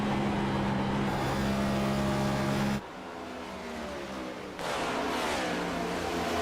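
NASCAR Cup Series race cars roaring past at Charlotte Motor Speedway, a loud sustained engine drone that drops abruptly, then swells again as another pack passes, with no talking.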